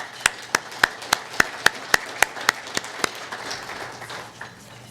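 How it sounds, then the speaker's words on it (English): At an economic forecast lunch, a dozen crisp, evenly spaced hand claps ring out nearby, then fade into a soft room murmur. "Round of applause, please."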